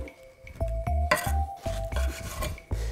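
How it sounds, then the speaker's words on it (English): A knife cuts through a pineapple on a board and the cubes are tossed into a bowl, giving a close series of thuds, chops and clatters with no talking. "we're gonna cut some cubes here, all right? Just some small cubes, medium size kind of idea. Throw them in the bowl."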